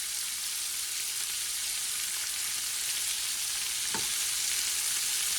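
Minced garlic fries in a paella pan among fowl organs, a steady close hiss of sizzling oil throughout, with a single soft scrape of a utensil near the end.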